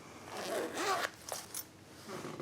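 Zipper on a small dollar-store fabric pencil case or cosmetics bag being pulled open: a couple of quick close rasping zips followed by soft handling clicks, with no talking.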